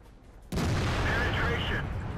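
A tank cannon in a tank video game fires one sudden loud blast, followed by a sustained rumbling roar and ringing tail that hold for over a second.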